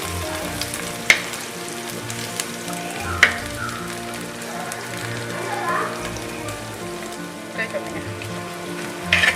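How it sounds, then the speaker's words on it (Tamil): Masala and coconut sautéing in a clay pot, a continuous crackling sizzle like light rain on a surface, punctuated by a few sharp spatula clicks and scrapes against the pot. "முதல்ல மசாலா வதக்கி எடுத்துட்டு அரைக்கிறதுக்கு எடுத்துக்கிறோம்."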